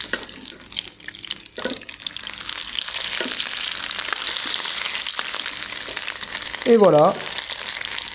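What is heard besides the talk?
stuffed sardines frying in a pan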